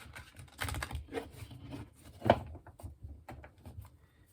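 Soft, close rustling and flicking of tarot cards being shuffled, with irregular light taps and riffles, fairly quiet throughout.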